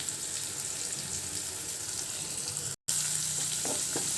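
Onion, mustard seeds and cumin frying in oil in a kadai, a steady loud sizzle running throughout with a brief cut near the middle and a few faint clinks toward the end.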